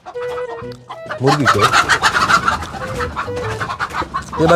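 Chickens cluck loudly and close by, with a few single calls at first, then a dense, continuous run of rapid clucking.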